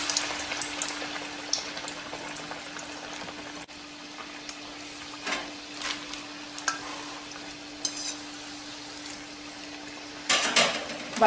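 Semolina (rava) vada frying in a pan of oil, a steady soft sizzle throughout with a few scraping stirs and a clatter near the end, no voices.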